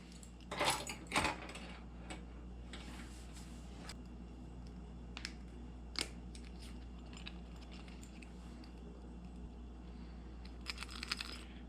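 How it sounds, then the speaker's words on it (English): Keycaps are pressed onto a mechanical keyboard, giving scattered light plastic clicks and taps, with a brief cluster of louder clacks near the start and more at the end, all quiet and close with no talking. "I'm gonna make a little time lapse of putting all these keys in here"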